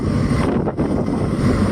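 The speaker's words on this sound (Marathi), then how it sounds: "भरपूर म्हणजे भरपूर वारा आहे" Strong wind roars across the deck of a merchant navy ship at sea, a loud continuous rushing buffet with mic-blown rumble and no voices.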